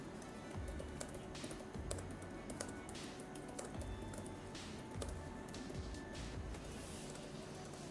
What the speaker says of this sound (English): quick typing test so you guys can hear what the keyboard sounds like